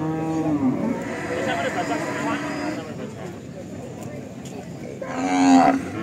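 A large Limousin bull moos in long, drawn-out calls at a busy Indonesian cattle market, once at the start and again near the end, while someone talks over the crowd noise.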